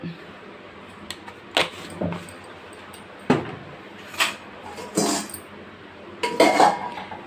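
Wheat flour dough with ajwain and salt is mixed in a bowl, heard as about eight sporadic knocks and clinks of a utensil against the bowl over a quiet background.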